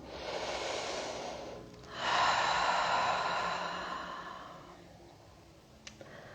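A long, deep exhale through the nose and mouth closing a hip-opening yoga session, close and breathy, swelling then slowly fading, followed by a faint small tick.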